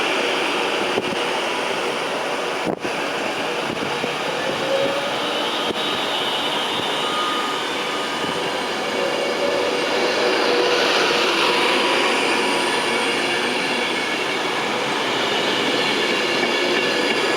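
Train at Watford Junction station, a loud sustained rumble of carriages rolling past close by, with steady wheel and track noise, a brief sharp click near the start and a rising whine toward the end.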